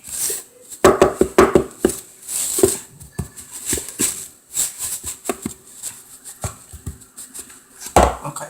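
Macadamia nut cookie ingredients being mixed by hand in a bowl, an irregular run of close scraping and tapping strokes with short pauses between them.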